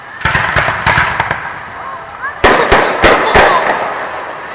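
Fireworks are shot off outdoors, a series of sharp pops and bangs in irregular clusters, some near and loud, with people talking in between.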